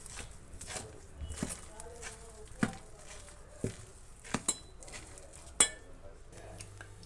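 Bonda batter made from rice is stirred with salt in a bowl. A spoon knocks and clinks against the sides in scattered, fairly quiet taps, with a voice talking faintly now and then.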